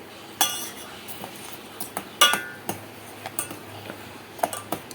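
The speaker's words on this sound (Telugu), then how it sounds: "సేమి అందులో వేసేసి చక్కగా కలుపుకుందామండి" Vermicelli is stirred in a pot, with a spoon clinking and scraping against the metal in irregular sharp taps over a quiet background hiss, with no talk.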